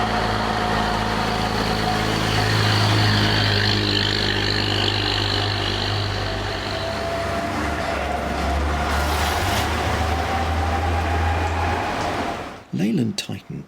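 A 1956 Leyland Titan rear-entry double-decker bus runs with a loud, steady, droning engine and a whining mechanical tone, continuous throughout before cutting down sharply to a brief clatter at the end.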